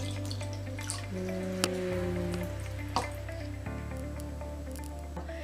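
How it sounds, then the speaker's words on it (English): Water trickles through a funnel into a bottle of olive oil while making a homemade lava lamp, with soft liquid drips and squishy bubbling over a steady low hum. "we are going to put the water into the olive oil"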